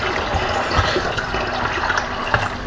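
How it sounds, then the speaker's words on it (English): Hot sugar water poured from a pan into a bottle while making homemade apple wine, a steady close gushing, splashing stream that runs without pause. "be careful when you pour this into your bottle"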